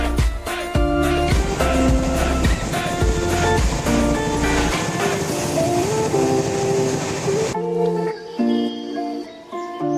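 A long-distance passenger train on the Howrah to Delhi route runs along its rails with a loud, continuous rumbling roar. The deep rumble drops away after about five seconds, leaving a lighter rattle with tonal hums.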